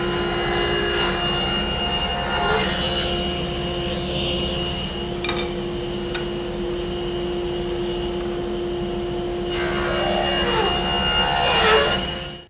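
A table saw rips wooden leg stock to a narrow width, its blade droning loudly and steadily up close, with the cutting noise swelling near the start and again toward the end.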